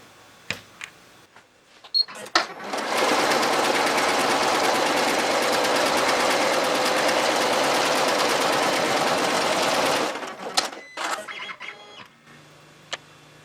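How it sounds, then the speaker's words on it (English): Embroidery machine sewing an applique design on fabric with a tearaway stabilizer, a loud steady rapid whirring run of about seven seconds, framed by handling clicks and taps before and after. "So we've loaded the design on the machine, set the colors, and now we're ready to sew."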